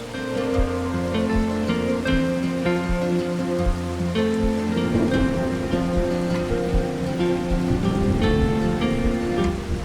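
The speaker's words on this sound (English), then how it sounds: "Look at that, I get no warning for rain." Steady rain pours on the ground in the farming game Farming Simulator 25, forming a constant hiss beneath in-game music and machinery tones, with no talking heard.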